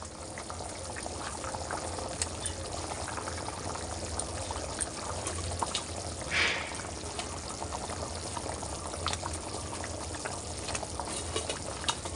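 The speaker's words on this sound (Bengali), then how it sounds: "ঝোল ফুটে গেছে এখন আমি ধোকাগুলোর মধ্যে দিয়ে দেবো" Curry broth for dhoka, a Bengali lentil cake dish, boils steadily in a pan with a constant dense bubbling and hissing that stays near and even throughout.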